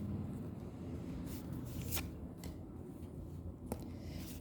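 Tarot cards being shuffled and drawn from a deck: soft, faint riffling and sliding with a few light snaps and flicks close by over a low background hum, with no talk.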